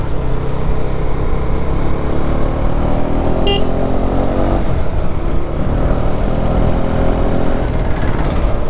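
KTM Duke 390 motorcycle climbing a mountain road between Parunthumpara and Munnar in Kerala, a loud steady engine drone with heavy wind rush from onboard, continuous throughout.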